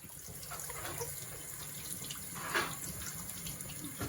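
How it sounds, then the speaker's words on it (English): Tap water runs steadily into a sink as pumpkins are washed, a continuous close splashing stream with a slightly louder surge partway through. "First, we're gonna wash the pumpkins."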